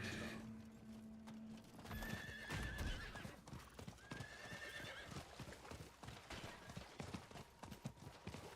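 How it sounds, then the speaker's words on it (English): Horse hooves gallop in a rhythmic clip-clop through a video game world, with a brief neigh near the start and a faint voice underneath, steady and moderately close throughout. "I miss that infinite sprint on the horse"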